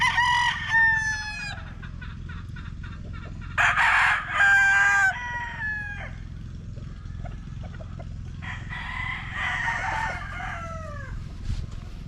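Chickens clucking and a rooster crowing in a barn, with several loud crows rising and falling over a steady low hum of the barn, near and clear.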